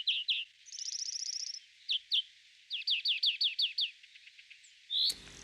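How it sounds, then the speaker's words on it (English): Chaffinch song in a garden: several bright, rapid descending trills and short chirps repeat clearly in quick bursts, fairly close, with a sharp chirp near the end and no talking. "The chaffinch is the UK's second commonest breeding bird"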